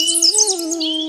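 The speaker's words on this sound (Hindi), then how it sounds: "बट वृक्ष पे तो चिड़ियां बहुत बोल रही हैं।" Birds chirping in a banyan tree during an outdoor gathering, a short burst of high, bright twittering calls layered over a steady sustained tone, moderately loud with no talk.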